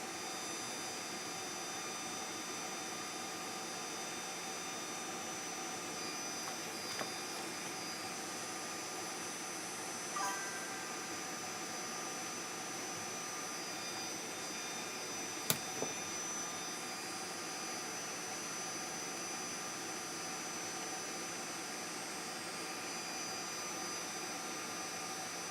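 A hot air rework tool blows on the chip pins of a PC Engine GT board, making a continuous, even airy hiss and whoosh with a couple of faint clicks partway through.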